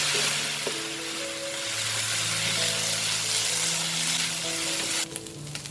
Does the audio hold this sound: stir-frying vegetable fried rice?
yes